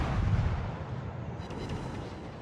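Naval guns on the Tashkent destroyer firing in the World of Warships video game, a single booming, rumbling burst that rings out and decays over a couple of seconds.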